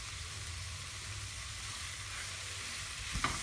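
Tomato paste and spices frying in a pan for butter chicken, a steady close sizzle running throughout, with a brief clink of a utensil near the end.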